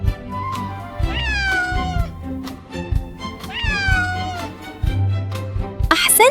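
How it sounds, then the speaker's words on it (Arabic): A cat lets out two clear, drawn-out meows a few seconds apart, heard close and loud against soft background sounds, with a brief sharper cry at the end. "أحسنتم، إنها القطة."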